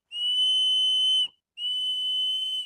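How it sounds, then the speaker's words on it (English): Two sharp, shrill blasts from a VEVOR camping shovel's built-in whistle, each about a second long, with a short silent gap between them. "on the other side, there's this whistle."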